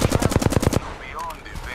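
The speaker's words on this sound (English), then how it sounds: "Stand back, knuckle cluster firing" Fuse's knuckle cluster fires in Apex Legends, a rapid burst of about ten sharp punchy shots followed by a brief whistling trail and a fading tail.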